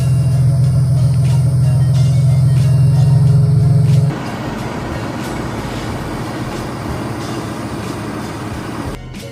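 An old, affordable pickup truck idles with a steady low engine hum that drops after a few seconds to a softer, even rumble, heard close by with no voices.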